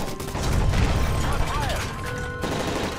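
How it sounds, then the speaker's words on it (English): Bursts of rapid automatic gunfire sound in the Modern Warfare 3 Turbulence mission aboard a plane, with loud clustered shots and mechanical clatter mixed with shouting game voices. "That's gunfire!"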